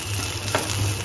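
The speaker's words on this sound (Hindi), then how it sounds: "अब इसको अच्छे से 1 मिनट के लिए इसको भून लेंगे।" A tadka tempering for tomato and coconut chutney sizzles and fries in a pan, a close, steady crackling hiss with a couple of brief stirring scrapes.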